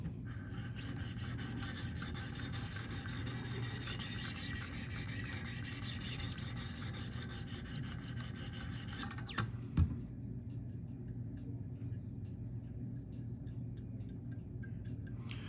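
A Spyderco PM2 knife with a Maxamet steel blade is sharpened on a Wicked Edge stone, giving steady rasping strokes that run continuously, then thin out near the end.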